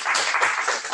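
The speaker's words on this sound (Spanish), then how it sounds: "Un aplauso." An audience at a university mathematics school lecture applauds, a dense, steady patter of many hands clapping at once, fairly loud and filling the short moment with no talk over it.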